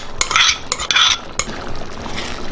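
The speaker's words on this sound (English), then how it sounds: "I'm gonna mix it up." Beef stroganoff sauce with sour cream being stirred in a pan, a few quick, close scraping and swishing strokes of a spoon followed by a quieter steady simmer, no voices.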